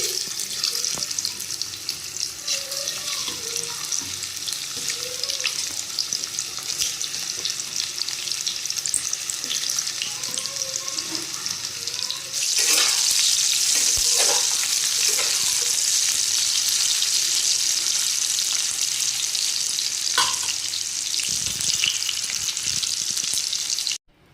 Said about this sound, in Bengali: তো এর মধ্যে আমি এখন এই আলুগুলোকে ছেড়ে দেবো, ছেড়ে একটু হালকা ফ্রাই করে নেবো